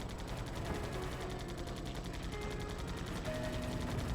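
Enemy machine-gun fire in Air Conflicts: Pacific Carriers rattles in a fast, steady stream of shots, faint and distant under a constant engine drone.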